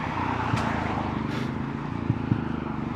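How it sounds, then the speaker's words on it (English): A gas generator runs on a Brooklyn residential street, a steady low engine drone with a fairly constant level and a few brief knocks over it, nearby and without voices. "That guy had some kind of gas generator."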